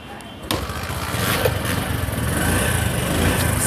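Small 100cc Bajaj Platina motorcycle engine running at a steady idle, a close continuous putter that starts abruptly after a brief quieter moment and then holds level.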